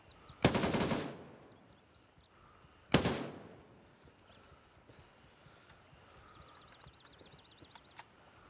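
Gunfire in the Gray Zone Warfare video game: two loud bursts of automatic fire about two and a half seconds apart, each fading out, then low ambient game sound.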